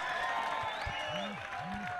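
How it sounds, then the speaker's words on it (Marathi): A crowd at a state-level kabaddi tournament final in Chiplun claps in steady, continuous applause, with some voices under the clapping. "टाळ्या होऊन जाऊ द्या."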